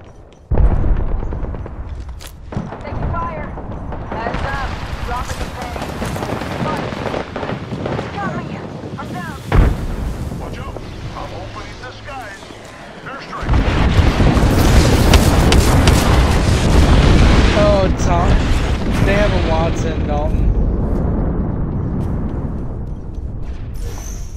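Frag grenade blast during an Apex Legends match, a heavy boom among dense bursts of gunfire and loud battle noise, with players' voices speaking over the action.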